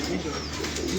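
A pigeon coos softly in low, repeated throaty notes, close by, with a brief voice and some background noise around it.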